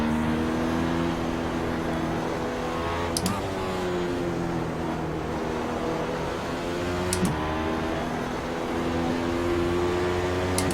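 Racing car engine in the iRacing simulator at Suzuka, a sustained harmonic drone with distinct revs as the pitch climbs and falls, with two brief gear-change pops, running steadily throughout.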